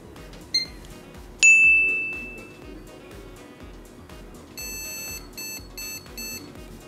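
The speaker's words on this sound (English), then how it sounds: "Motherboard beeps, indicating that it does not recognize the device." A computer motherboard beeping during boot with an MSI graphics card it fails to recognize, giving a long tone followed by a series of short, evenly spaced electronic beeps over faint background hum.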